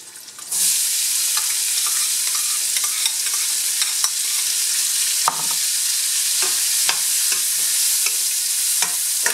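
Onion fries in a pan for a pasta dish with broccoli rabe, mushrooms and bacon, a loud continuous sizzle that begins abruptly, with frequent clicks and scrapes of stirring throughout.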